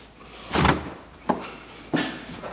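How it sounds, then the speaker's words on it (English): Doors of a built-in two-door refrigerator in a house kitchen thud shut three times in succession, each a muffled close knock with a soft seal pop, heard nearby with no talking. "We've got the nice built-in refrigerator here, 2 doors"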